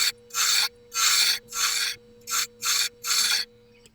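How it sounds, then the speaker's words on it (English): Six crisp scraping strokes of a gouge chisel rounding over the edge of a wooden rolling pin, close and loud, in an irregular rhythm with short silences between them over a faint steady hum. "I've been using this gouge chisel. It's great for rounding over"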